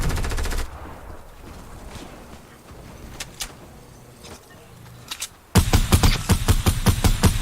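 Rapid gunfire in Fortnite during a competitive match: a burst of shots at the start, scattered single cracks through a quieter middle, then a loud sustained volley of repeated shots at the end, close and dominant.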